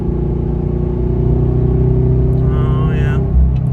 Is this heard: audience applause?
no